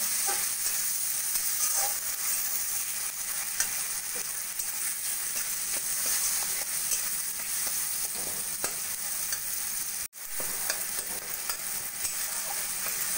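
Tomato, green chillies, salt, turmeric and cumin powder frying in a pan, a constant close sizzle with repeated spatula stirring, broken by a split-second dropout near the end.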